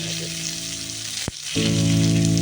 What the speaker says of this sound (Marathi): आता आपण दुसरी साईड पण अशी भाजून घेऊया